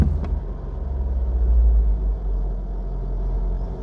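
A Vauxhall Astra F, parked for four years, idles too high with a steady, close, low engine rumble and a slight swell early on, without talking.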